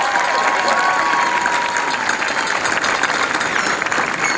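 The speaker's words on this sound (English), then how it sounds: "I'd just like to give another round of applause" Audience applause at a high school graduation ceremony for the class of 2017, a steady wash of crowd clapping with faint cheering mixed in, fairly even in loudness throughout.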